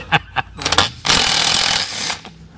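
Milwaukee power tool backing out the last stuck bolt: a few short sharp taps, then a loud sustained rattling, hammering whir for about a second, close up with no speech over it.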